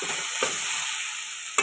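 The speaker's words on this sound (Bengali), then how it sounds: "মশলাটা আমার ভালো করে কষানো হয়ে গেছে" Spice paste being stir-fried in a pan, giving a constant close sizzle broken by two or three brief scraping stirs.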